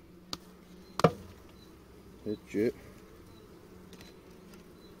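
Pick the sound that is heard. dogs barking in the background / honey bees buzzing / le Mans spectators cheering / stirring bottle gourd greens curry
honey bees buzzing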